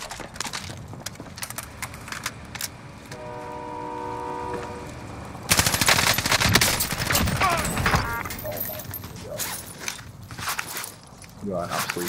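Gunfire in the video game Warzone sounds as loud, rapid, sharp bursts that swell abruptly midway into a heavy barrage, with other in-game sounds underneath.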